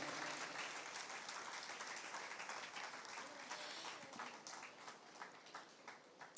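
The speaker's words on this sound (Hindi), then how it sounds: "जोरदार तालियों के साथ" A crowd at a spiritual cultural event claps continuously, a thick wash of many hands with sharper individual claps standing out, fairly distant and soft, easing slightly toward the end.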